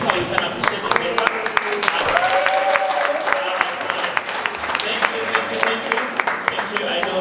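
An audience at a school book fair claps in a burst of applause, with people talking over and around it.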